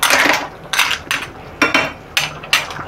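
Malvani clam curry being stirred in a metal pot, then the lid set on, giving several sharp clinks and scrapes spaced about half a second apart, close and fairly loud.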